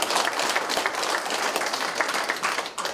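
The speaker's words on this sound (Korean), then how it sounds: "이분에게도 한 번 더 박수 보내주세요." A seated audience at a Seoul public policy forum applauds a speaker, a continuous wash of many hands clapping at moderate volume, unbroken from start to finish, with no talk over it.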